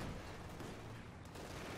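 In Company of Heroes 2, a dense artillery bombardment rumbles in the background as a faint, continuous barrage of booms and crackling fire.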